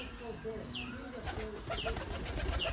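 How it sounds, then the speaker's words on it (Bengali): Pigeons coo in low, rolling calls close by, repeating over a soft background hiss, with a faint chirp or two and a brief wing flutter mixed in. "এটা রবিটের কবুতর"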